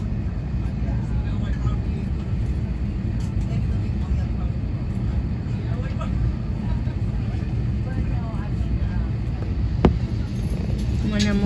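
A steady airliner roar fills the scene at Los Angeles airport, an aircraft passing continuously in the open air with a sharp click near the end.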